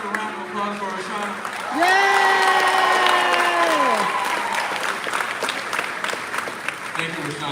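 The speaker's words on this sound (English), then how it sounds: "Another round of applause for Rashana." A graduation ceremony crowd claps and cheers steadily, the clapping staying dense and loud throughout, with a voice talking over the applause for a few seconds.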